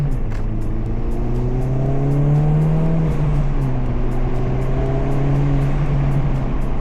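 Engine of a 2024 Acura Integra Type S with a 6-speed manual, a loud steady drone with rising and falling pitch as it revs and shifts, running continuously with no talk.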